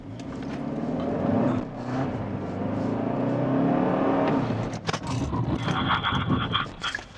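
A Hyundai Sonata N Line sedan with a 290-horsepower engine pulls away from a standstill, its engine note rising steadily under load, close and fairly loud, with a brief scrape-like burst near the end.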